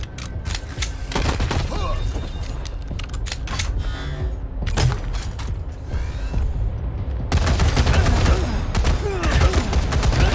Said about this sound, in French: Ouah, il nous tire dessus.